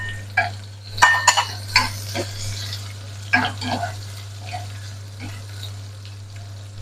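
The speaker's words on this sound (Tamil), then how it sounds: "வெங்காயம் கொஞ்சம் வதங்கி விரைக்க வெள்ளைப்பூடு சேர்த்துக்கொள்ளுவோம்" Onion and garlic sautéing in oil in a pan for a spinach and dal milk curry. Scattered stirring scrapes and light clinks rise over a soft sizzle and a steady low hum, with no talking.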